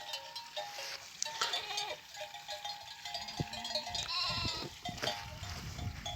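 Young goats and lambs bleat in short, scattered calls outdoors, with faint clinking of a bell in the background.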